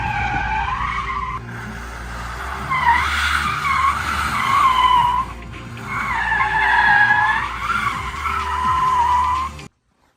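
Tires squeal loudly on a Tesla converted for handbrake drifting, with long wavering screeches in two main bursts over a low motor hum before cutting off abruptly.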